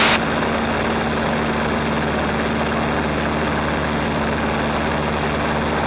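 Steady, loud drone of a Piper PA22-135 Tri Pacer light aircraft engine heard from inside the cabin, a continuous propeller hum with a constant tone and no speech.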